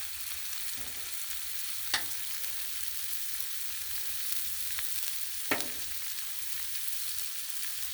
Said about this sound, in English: Oh, look at that. Sear going on already.